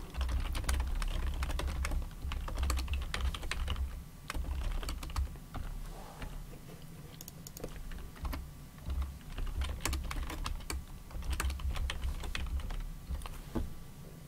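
Continuous typing on a computer keyboard entering router commands, a close, busy stream of key clicks with brief pauses, no voices.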